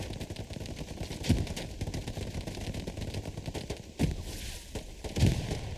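Bursts of gunfire and grenade blasts ring out in a Hell Let Loose battle, with steady rattling shots and several heavier blasts standing out, while a Tiger tank and German stick grenades are in play.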